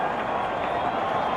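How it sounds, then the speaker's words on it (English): Cricket crowd of Indian supporters at an India versus Pakistan World Cup match in 1992 roaring and cheering a fallen wicket, a dense, steady wash of distant crowd noise with faint clapping throughout. "Their supporters in the crowd are delighted."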